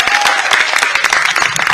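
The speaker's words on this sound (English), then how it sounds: "Did you give your principals a round of applause?" Short burst of dense, close applause from an audience clapping for school principals at a live event, steady and loud throughout with no clear speech.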